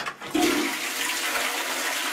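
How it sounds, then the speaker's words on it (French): A toilet flushes after a bathroom anti-limescale protective treatment has sat in the bowl, a loud close rush of water that surges quickly and keeps pouring steadily. "nous allons tirer la chasse d'eau"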